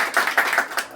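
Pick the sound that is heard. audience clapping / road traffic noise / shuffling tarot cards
audience clapping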